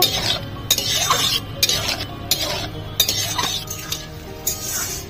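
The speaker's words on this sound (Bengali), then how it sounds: "লোটে মাছের কাঁটা সব বার করে নিয়েছি, শুকনো শুকনো করে ভাজা ভাজা করে নেব" Deboned lote, or Bombay duck, fish dry-fries in a pan with steady close sizzling and the scrape and clink of a spatula stirring throughout.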